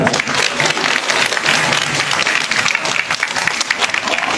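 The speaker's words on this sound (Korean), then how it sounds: "박수 한번 주세요." A crowd applauds loudly and continuously at a panda event at Everland, dense clapping filling the short stretch without clear talk.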